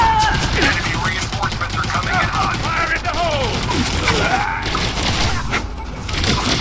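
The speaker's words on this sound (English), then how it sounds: "I really wish I'd put stability on this SMG." Rapid submachine gun bursts in Elite Dangerous: Odyssey, loud and close, firing near-continuously in dense chatter with crashing impacts, over a busy combat mix with occasional voice comms.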